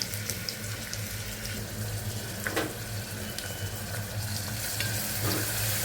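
Green chillies, onions and curry leaves frying in hot oil for a Telugu batani aloo curry, giving a steady close sizzle with a low hum beneath and a few brief scrapes of stirring.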